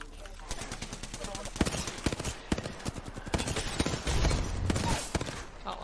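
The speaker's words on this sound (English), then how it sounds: "shooting at me" Rapid gunfire in a video game, dense bursts of shots crackling steadily for several seconds as players talk over it.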